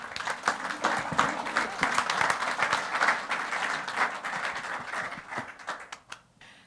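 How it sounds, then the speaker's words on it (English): Audience applause after a talk at an architecture awards event on the Tintagel Castle footbridge, dense continuous clapping that fades toward the end with a few scattered final claps. "Round of applause."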